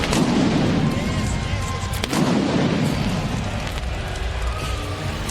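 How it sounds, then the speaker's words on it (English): Pyrotechnic booms go off during a wrestling entrance at AEW All Out 2024, loud repeated blasts with a sharp hit near the middle over a roaring arena crowd. "Matthew and Nicholas Jackson probably just spent somebody's salary on pyro"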